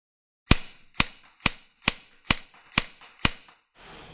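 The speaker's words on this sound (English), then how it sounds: "to give you an idea of what it sounds like at the front of the muzzle" An Elite Force MP7 A1 AEG airsoft gun heard from the muzzle end fires seven sharp, evenly spaced cracks, loud and close, followed by a brief soft hiss.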